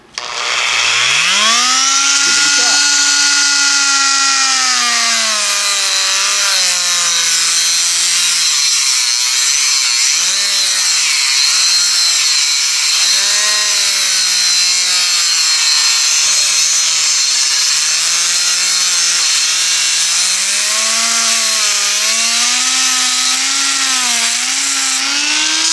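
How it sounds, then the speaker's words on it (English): Dremel rotary tool cutting through a Briggs carburetor part, a loud high-pitched grinding whine that rises and dips in pitch as the bit bogs under load, continuous for the whole stretch with no talking. "I've obtained our very handy Dremel tool, and I think what we'll do is we're going to go and we're going to cut that right off."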